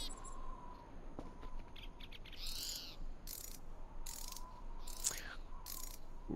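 A ratchet wrench in the video game Voices of the Void gives off a few short, bright clicking bursts, spaced unevenly over a quiet low hum, close and fairly faint with no talking.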